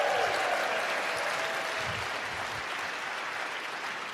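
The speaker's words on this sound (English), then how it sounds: "round of applause for Maurice, by the way" Audience applause at an Ignite Seattle event, a dense, steady wash of clapping that stays loud throughout and fades slightly near the end, with a brief voice audible at the start.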